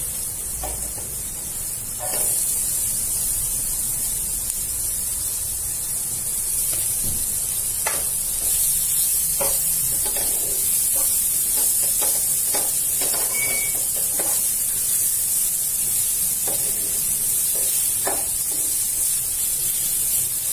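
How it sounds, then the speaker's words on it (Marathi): Onion frying in butter in a pan for Marathi-style masala pav, a steady close sizzle and hiss running throughout with scattered small crackles and pops, no talking over it. "त्याच्यात आपण आता कांदा घालूया"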